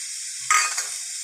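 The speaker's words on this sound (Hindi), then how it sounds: "सारी चीज़ों को अच्छे से मिक्स कर देते हैं" Noodle spring roll filling with black pepper and noodle masala being stirred and mixed in a pan, a short scraping swish that rises sharply midway and then settles into a soft, steady rustle.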